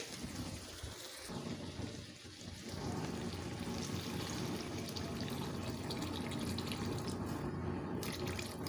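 Water pours steadily into a pot of browned mutton being cooked for kosha, a continuous close splashing rush that starts after a short pause and runs evenly to the end.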